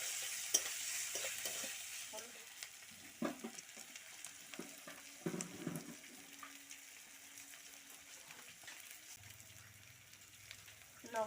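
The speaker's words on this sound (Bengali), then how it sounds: "আমি এবার দিয়ে দিই আদা রসুন বাটাটা দিয়ে দিচ্ছি। একটু নেড়ে ছেড়ে" Ginger-garlic paste stirred into frying onions for dhaniya chicken gives a soft, quiet sizzle with intermittent spoon scrapes and knocks against the pan, heard close but faint.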